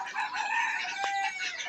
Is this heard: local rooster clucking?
yes